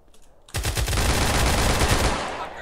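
Pistol gunfire in a GTA multiplayer battle, a sudden loud burst of rapid, closely spaced shots that runs without a break for about two seconds after a quiet start.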